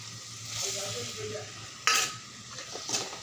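Cooked moong dal is poured into a pan, then stirs and sizzles, with scraping utensil strokes and a few clinks against the pan.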